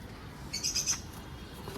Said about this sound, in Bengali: এই যে দেখুন একটা আর্মি কবুতর আর একটা জিরা গলা কবুতর